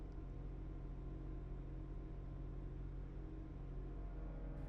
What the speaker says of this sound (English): I'm guessing it's some sort of air compressor making this noise